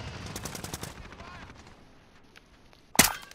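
Gunfire in the Modern Warfare Resurgence battle royale on Rebirth Island: faint scattered shots and quiet game ambience, then a sharp loud burst of several close rounds near the end.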